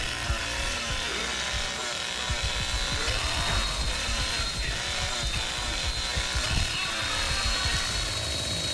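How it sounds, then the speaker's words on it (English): A chainsaw running steadily in the Texas Chainsaw Massacre horror video game, a loud, continuous, rough mechanical rattle that churns on without pause. "Dude, I'm so tired of this fucking chainsaw already"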